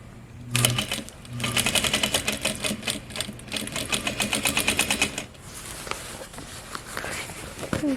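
A sewing machine stitches the waist seam of a pair of pants in close, rapid needle bursts that start and stop, including a short backstitch, then fall to quieter handling of the fabric.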